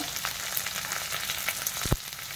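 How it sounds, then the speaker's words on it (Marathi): Curry leaves, onion and tomato fry in a pan with a dense, even sizzle up close, broken by a few spatula scrapes and one sharper knock near the end. "आता हे छान परतून घ्यायचंय"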